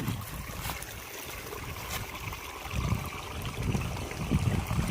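Water gushes and splashes from a motor pump pipe, the flow of two pumps combined, in an uneven, churning flow, surging louder toward the end with a low rumble underneath.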